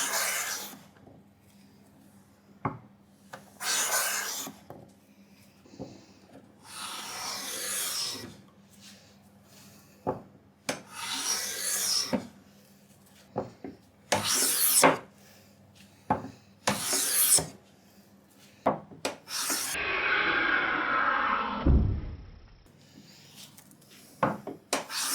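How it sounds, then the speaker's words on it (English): Repeated rasping strokes of a hand plane across wood, close and crisp, separated by short clicks and pauses, ending in a longer smooth pass taking fine, fluffy shavings. "I'm testing out my skills to try to get those little tiny fluffy shavings."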